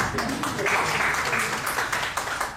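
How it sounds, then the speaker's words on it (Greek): Brief applause from a seminar audience for a participant named Vasilis, moderately loud clapping at close range with some voices mixed in. "ένα χειροκρότημα στο Βασίλη"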